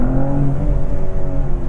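A 2024 BMW M4 Competition xDrive engine, heard with its active sound turned off, hums and drones steadily from the cabin with a smooth low rumble and slowly rising tone, close and continuous.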